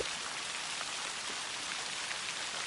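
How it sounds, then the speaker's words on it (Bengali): Heavy rain pours down steadily in a village, a dense, even hiss of drops drumming on surfaces with no letup and no voices. "যে পরিমাণ বৃষ্টি শুরু হয়েছে"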